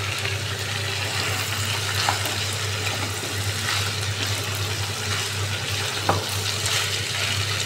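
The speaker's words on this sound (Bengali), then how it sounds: "এবার আমি পাস্তাটা দিয়ে দেবো। পাস্তাটা দিয়ে এবার নেড়ে" Pasta sizzling in a pan as it is stirred with spices, a dense continuous frying hiss with a low steady hum underneath and an occasional scrape, close and even in level, no talking.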